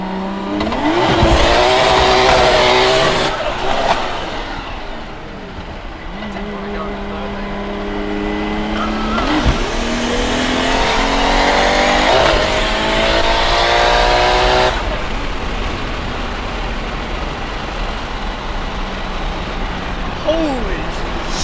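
A 750HP big turbo 1JZ Toyota Soarer drifts sideways, its engine roaring loud and close with rising and falling revs, rough tire noise running underneath, while excited voices talk over it.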